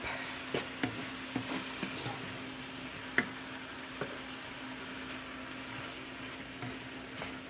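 Nigerian fried rice with shrimp stirred in a pan, a quiet steady sizzle with soft, irregular scraping knocks of the spoon against the pan, no voices.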